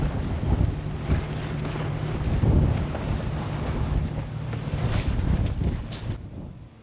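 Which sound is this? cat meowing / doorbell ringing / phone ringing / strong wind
strong wind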